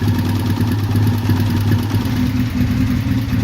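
A Triumph T140 motorcycle engine idles steadily at close range, a loud, even, low-pitched throb with no talking over it.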